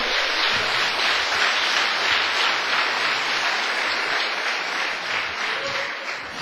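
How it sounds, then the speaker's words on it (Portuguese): A congregation at an evangelical pastors' gathering applauds steadily, sustained crowd clapping that fills the room without pause and tapers slightly toward the end. "E aqui para dar uma salva de palmas para o Senhor."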